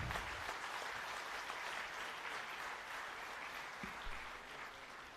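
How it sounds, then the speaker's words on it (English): Steady applause from an audience at a bank officers' association golden jubilee celebration in Karnataka, welcoming a speaker to the stage; dense, continuous clapping fills the room and tapers slightly near the end. "Let's give a huge round of applause"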